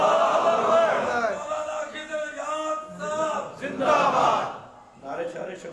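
A crowd at a religious gathering shouts slogans in unison, loud surging cries that rise and fall in repeated bursts with short pauses between them.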